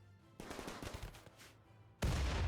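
Rapid bursts of automatic gunfire in the video game RimWorld, a dense rattling fusillade that pauses briefly, then erupts again louder and sharper toward the end, heard without talking.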